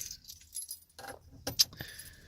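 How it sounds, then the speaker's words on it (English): Car keys jangle in a few short metallic bursts, close and moderately loud, with quiet gaps between the shakes. "you do have keys for the car"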